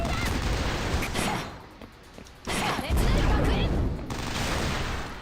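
Explosions in the Action Taimanin video game come in bursts of rapid, crackling blasts with brief lulls between them, loud and close, mixed with game effects.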